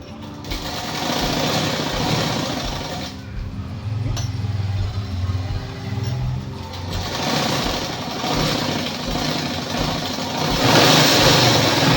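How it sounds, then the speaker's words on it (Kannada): Sewing machine stitching the side seam of a blouse, running in a steady continuous whir for the whole stretch with only slight shifts in pace. "ಇದೊಂದು ಸ್ಟಿಚ್ ಹಾಕೋಬೇಕು ನಾನು ಈಗ"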